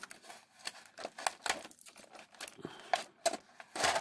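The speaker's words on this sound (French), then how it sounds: "Je défais tous les petits autocollants" Small stickers are peeled off a Bandai Soul of Chogokin Mazinger Z toy, giving close, irregular crinkling and tearing crackles in quick bursts of plastic and paper sounds throughout.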